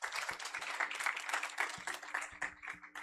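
An audience applauds, a dense patter of many hands clapping at moderate loudness, thinning slightly toward the end.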